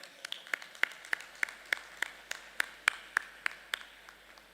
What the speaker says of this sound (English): Give him a good clap for this.